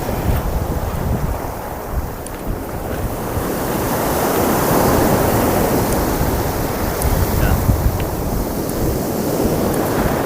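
Surf rolls onto a beach on the south coast of Taliabu near a river mouth, with constant wind buffeting the microphone and a broad, swelling roar of waves throughout.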